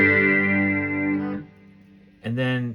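Electric guitar run through a chorus effect on a Boss GX-100 multi-effects unit: a sustained, shimmering chord rings out, fades, then a fresh chord is struck, loud and close with no talking.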